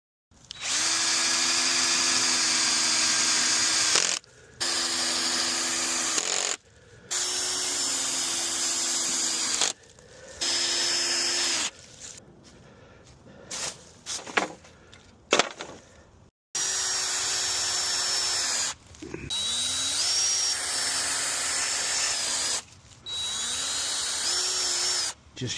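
A cordless drill drives leftover screws into spare pallet boards for a garden compost bin, whining in repeated loud bursts of one to four seconds with brief pauses, some bursts rising in pitch, and scattered knocks and clatter in the middle.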